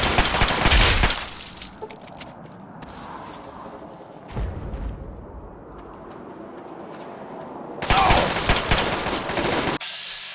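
Gunfire in the Fallout 3 video game, loud bursts of shots at the start and again near the end, with quieter scattered noise and a thump in between.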